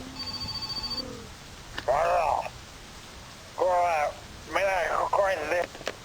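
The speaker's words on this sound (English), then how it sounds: "Another phone call." A telephone rings in the video game My Summer Car with a faint electronic ring early on, then people talk loudly over and after it.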